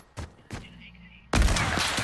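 AK rifle fire in a zone wars video game: two separate sharp shots, then a loud continuous burst of gunfire that keeps going to the end.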